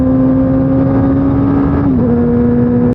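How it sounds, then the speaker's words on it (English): A race car engine pulls hard under acceleration with a steady high whine that dips briefly around a gear change, then cuts off abruptly at the end, loud and close with no talking. "this is a good start to our new engine test"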